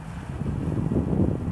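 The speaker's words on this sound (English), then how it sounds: "it's really windy out here." Strong wind blows outdoors beside a van during a roof inspection, a steady low rumbling buffet against the microphone that lasts the whole moment with no talking.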